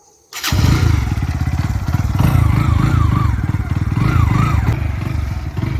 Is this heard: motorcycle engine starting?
yes